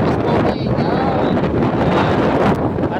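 Strong wind buffets the microphone at the sea, a loud, steady roar broken by gusts throughout, with rough water likely mixed in.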